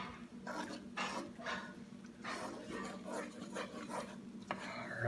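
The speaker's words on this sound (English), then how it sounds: "Gonna stir this." Salted pasta sauce being stirred in a pan for shrimp fettuccine alfredo, a steady series of scraping, rasping strokes close by with no talk.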